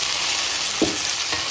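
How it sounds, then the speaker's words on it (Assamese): Tomatoes frying with golden-browned onions in a pan for paneer butter masala, a constant close sizzle broken by two brief scrape-like stirring sounds. "এই বিলাহীখিনি আমি ভাজি লম ইয়াত দি দিছো"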